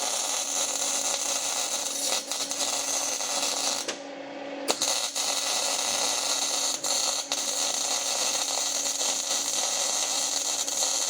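Steady crackling buzz of a MIG welder fusing the upper link mount onto a steel truss during a Jeep JK long arm kit install, continuous and fairly close with one brief break partway through.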